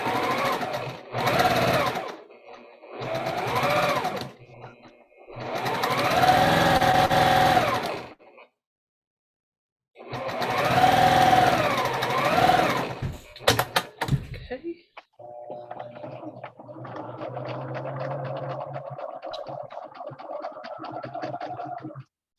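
A sewing machine nicknamed Black Beauty, known as fast but loud, runs in quick bursts with short pauses between them, then gives way to a steadier mechanical whir toward the end.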